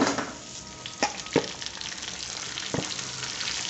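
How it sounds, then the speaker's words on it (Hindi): Marinated mutton for dum gosht fries in a pan with toasted golden coconut. A steady close sizzle hisses throughout, with a few sharp clicks and stirring knocks and no talking. "अब इस टाइम पे जो मैंने मैरिनेट किया हुआ था गोश्त वो डाल दूंगी।"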